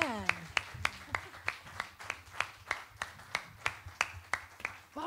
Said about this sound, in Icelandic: eigum við ekki að gefa þessum stórkostlegu listamennu gott klapp?